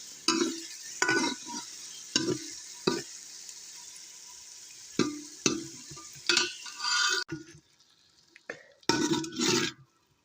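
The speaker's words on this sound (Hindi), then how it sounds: "ये दोस्तों प्याज और लाल मिर्चें भूनकर बिल्कुल तैयार हो चुकी हैं।" Onions and red chillies fry in a pan with a steady sizzle, broken by repeated scraping stirs in close, irregular bursts that run through the whole stretch without talk.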